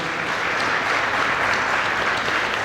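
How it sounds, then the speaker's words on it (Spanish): An audience at a book fair in Buenos Aires applauds continuously, a dense, even patter of many hands clapping without voices. "Aplaudimos a Milda, por favor"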